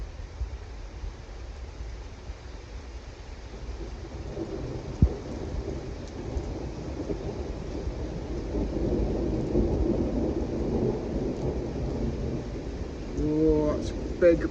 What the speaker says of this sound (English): Oh, that's big old rolls of thunder.